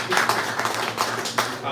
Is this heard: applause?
yes